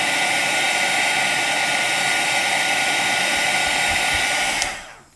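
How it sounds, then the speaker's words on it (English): A heat gun blows a steady, loud, hissing rush of hot air close by while making card-stamping crafts, then cuts out and winds down at the very end. "This will be the last one, and then we'll be done with the heat gun."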